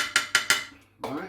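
A pan is set on the stovetop heat to make a cabbage Spanish omelette. Three quick metallic knocks come close together, then after a short pause a brief clattering scrape follows.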